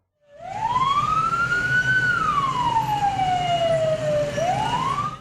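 An ambulance siren wails through a tunnel in South Korea, one loud, close tone that sweeps slowly up and down and then starts climbing again, with a low traffic rumble underneath.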